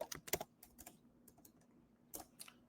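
Quiet bursts of computer keyboard typing, a few quick keystroke clusters separated by short pauses, fairly close and alone.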